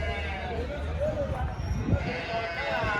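Large sheep at a livestock market in Pileru, a single faint bleat rising briefly amid steady market bustle and nearby talk.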